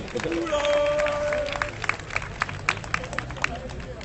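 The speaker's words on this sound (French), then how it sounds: "On l'applaudit, elle est courageuse." An outdoor crowd at a Nuit Debout gathering at Place de la République in Paris claps for a speaker, scattered, fairly close handclaps mixed with murmuring voices and some talk over the applause.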